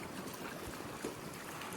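Strong winter wind blows steadily outdoors near the water, a constant broadband roar with gusty buffeting on the microphone and no talking.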